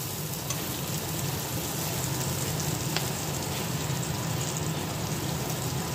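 Pointed gourd and spiny gourd fry covered in a pan in a little oil, giving a soft, continuous sizzle and crackle with one or two brief sharper pops, heard alone without talk.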